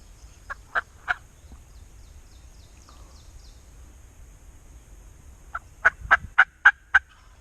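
Bursts of loud, rattling wild turkey gobbles ring out from a distance on a cold Pennsylvania spring morning, a short series early on, then a longer run of five or six calls after a quiet pause.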